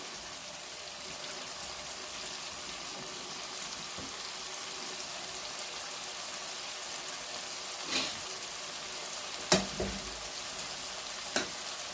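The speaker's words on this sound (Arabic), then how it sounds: "بحال هكا غادي نقليو هادشي مزيان" Food frying in a pan for an oven-baked Spanish paella, a steady even sizzle throughout with a few brief stirring clinks and scrapes near the end.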